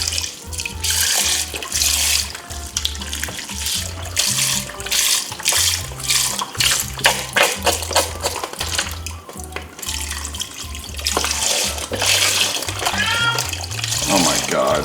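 Vegetable broth and water pour into a soup pot holding barley, a splashing, gurgling liquid rush that surges and pauses, heard under lively talk from the cooks.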